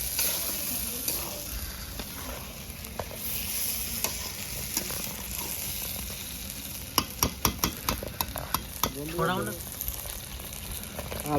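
Masala being stirred and fried in a pan for a home-style fish curry gravy, a steady sizzle running throughout with sharper scraping strokes of the spoon clustering toward the end.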